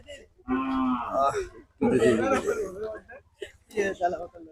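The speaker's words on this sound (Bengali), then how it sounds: "এদিকেও কিন্তু আসলে বেশ ভালো ভালো কিছু গবাদি পশু দেখতে পাচ্ছি" Cattle mooing at a rainy hill cattle market, several long, loud, close moos in succession with short gaps between them.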